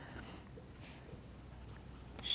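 A paper stump rubs softly across paper while shading a realistic pet drawing, a faint, close, continuous scratchy brushing with small strokes and no talking.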